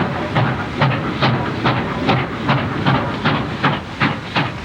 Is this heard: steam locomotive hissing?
yes